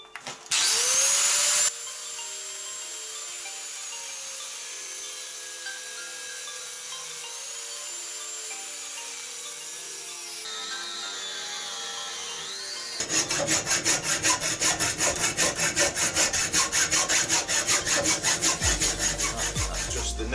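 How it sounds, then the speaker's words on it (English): Angle grinder grinding out the end of a steel tube, a loud steady high-pitched whine that later turns into a harsher, rougher rasping grind, with no talk. "I'm going to angle grind that out."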